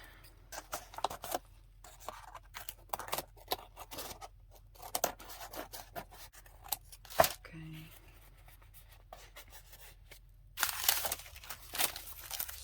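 Scissors snipping off excess material on a craft tag, with scattered quiet cuts and rustling of paper and craft items, close and soft, with a louder crinkling burst near the end.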